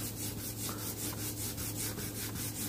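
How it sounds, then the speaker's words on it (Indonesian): Used 800-grit sandpaper rubbing over wrinkled paint in a steady back-and-forth rhythm, close and continuous, with even strokes roughly every quarter second and no talking. "Ini pakai amplas 800 yang bekas ya."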